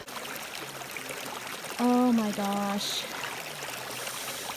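Ice cold stream water on the Appalachian Trail where a hiker soaks swollen feet, with a soft, constant trickle and rush throughout and a close voice exclaiming briefly partway through.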